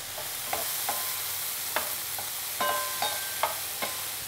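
Courgettes browning gently in olive oil in a frying pan with fresh thyme, giving a soft, steady sizzle under a string of faint scrapes and stirring taps from a utensil.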